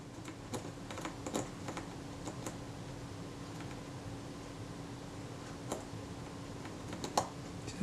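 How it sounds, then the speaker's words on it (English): Faint clicking of detent stops as the shutter-speed dial is turned on an Agfaflex SLR camera under service, a few sharp isolated ticks spread over a quiet background hiss. "So that the click stops will click."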